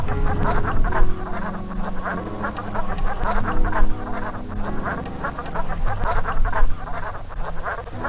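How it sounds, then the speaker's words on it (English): Brant geese winter on Sandy Point in New Haven Harbor, and a close flock gives a dense, continuous chorus of low, croaking honks that overlap in an uneven, bubbling rhythm with no talk. "the brant geese come down from Greenland to spend the winter walking out on Sandy Point in the fall"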